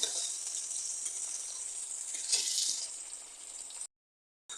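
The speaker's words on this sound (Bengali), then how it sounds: "পেঁয়াজটা খুব ভালো করে ভেজে নেব" Chopped onions sizzle steadily in a pan, a close, continuous frying hiss with faint stirring, heard alone for several seconds before cutting off abruptly.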